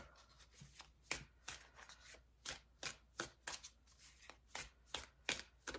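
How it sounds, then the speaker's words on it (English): Repeated riffles of tarot cards being shuffled, a steady series of crisp, close bursts with short pauses between, no voices. "Give these a few more shuffles."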